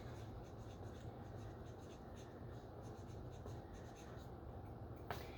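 A marker or chalk moves across a classroom board in short, faint scratching strokes with brief pauses between words, under low room noise.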